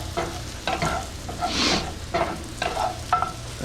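Potatoes browning in a pan for a vegan sweet potato hash, a continuous oily sizzle broken by several scraping stirs of a utensil, close and fairly loud.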